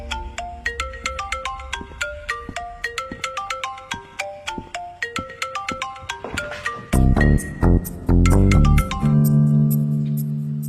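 A mobile phone rings for an incoming call, its bright melodic ringtone playing a quick repeating pattern of notes, then swelling into louder sustained tones near the end, with no one speaking.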